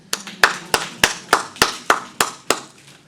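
Two people at a Rotary club gathering clap in a slow, steady rhythm, about nine crisp, close hand claps evenly spaced, with no talk over them.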